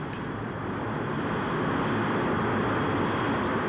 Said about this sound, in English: The Ryan X-13 was jet-powered.